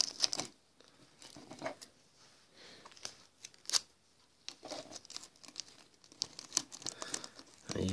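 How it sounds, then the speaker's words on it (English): Tin foil crinkles and rustles as sticky tape is pulled and pressed onto it while a solar eclipse viewer is made by hand. The crackling and tearing sounds come in irregular close bursts with quiet gaps between them. "take a piece of tin foil and you get some sticky tape and you just"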